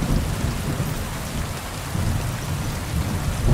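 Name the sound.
rain and thunder in a video game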